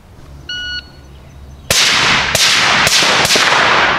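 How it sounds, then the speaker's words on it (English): Four loud, sharp rifle shots ring out at a shooting drill from 25 yards at a target, spaced irregularly with a short pause between pairs, each cracking abruptly and decaying; a brief faint tone precedes them. "Standing at 25 yards, engage target 2 with 2 rounds to the torso, 2 rounds to the hip."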